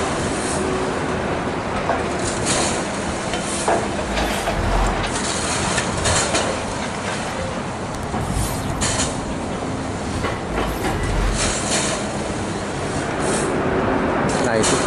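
A KCJB high-speed electric multiple-unit train rolls into the platform area at Tegalluar station, a continuous loud rumble and rail noise with occasional squeals, while someone talks over it throughout.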